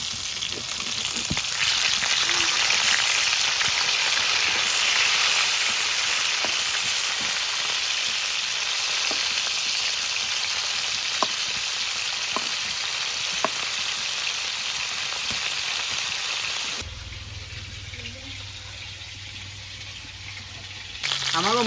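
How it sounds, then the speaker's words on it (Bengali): Tilapia fish fries loudly in hot oil, a dense continuous sizzle with occasional small pops, dropping to a quieter, softer frying sound near the end after the fish is flipped to its other side. "এখন উল্টোই আর এক কুল ভাজলাম।"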